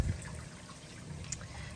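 Faint trickle and splash of water being scooped from an aquarium sump, a soft low slosh at the start followed by light gurgling and a few small drips, quiet and close with no talking.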